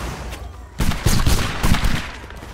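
A sudden ragged volley of musket fire in the game Napoleonic Wars, several overlapping cracks bursting together loudly after a short quieter lead-in.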